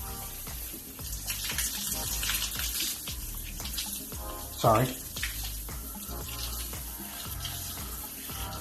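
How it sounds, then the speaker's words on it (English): A shower sprays water steadily over bathroom tiles and grout to rinse away mould residue, making a loud, continuous close hiss throughout, with one brief spoken word partway through. "that's just the water from the shower"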